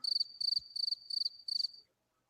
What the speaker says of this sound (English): Yeah, I know. Crickets.